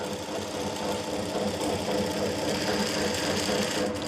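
A sewing machine stitches a salwar in a steady, continuous whirring rattle, close and fairly loud, running without a break and with no talk over it.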